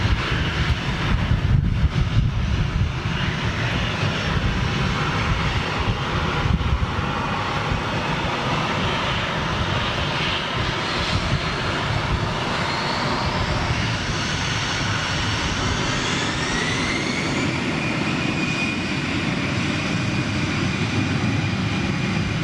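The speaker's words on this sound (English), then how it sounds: "330 taxiing out." A model jet, a 330, taxis out with a steady turbine whine and broad engine rumble that holds at moderate level throughout, with a faint rising tone late on and no voices.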